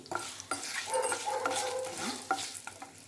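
Curry leaves and asafoetida sizzle in hot oil while tempering for a mango pickle, a close crackling fry with stirring scrapes and small clinks over the steady hiss.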